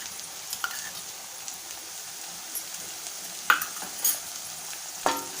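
A spoon stirs coarse ground peanut into frying green masala in a pan, a soft steady sizzle broken by a few sharp scrapes and clinks of metal against the pan.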